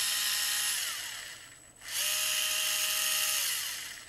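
Black & Decker Gyro cordless handheld screwdriver motor whirring steadily with a high-pitched whine, briefly dipping and winding down in speed near the middle before spinning back up to full revs.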